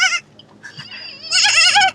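A child mimics a goat's bleat in a wavering, nasal voice, with a short cry first and then a longer, louder quavering bleat, heard close and alone inside a camper van.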